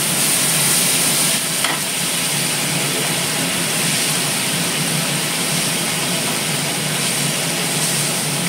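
Masala spices for a fish curry hiss and sizzle steadily in a hot pan as a little water is added, a loud, continuous frying noise with no voices.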